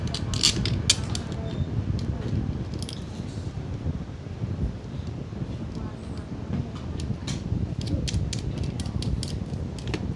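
Screws being tightened by hand on a fan motor's rotor shaft bushing during repair of a jammed, humming fan: steady close creaking and ratcheting mechanical clicks with small metallic taps, continuous throughout.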